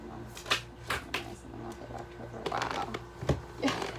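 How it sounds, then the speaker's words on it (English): Tarot cards being shuffled in quick, crisp riffling bursts, repeated several times at close range with no voices. "Let me just shuffle again."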